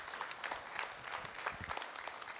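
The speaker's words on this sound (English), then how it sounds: "Let's give a big round of applause for Alberto," Quiet applause from a small audience thanking guest speakers at a student info session, a soft patter of clapping with a few louder claps, faint and fairly steady.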